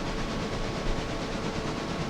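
Steady rumble of SD7 diesel locomotives hauling a heavy train on the SAE line, a continuous broad roar with a faint rhythmic rolling texture, loud and close throughout, no talking.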